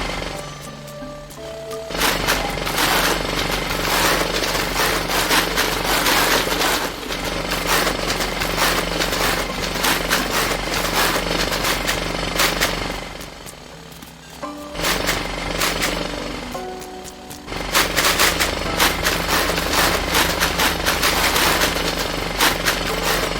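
Power tools running in the game Dinkum, a loud continuous mechanical clatter and drone that goes on for long stretches, stops briefly twice, then starts up again.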